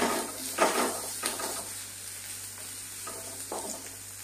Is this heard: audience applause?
no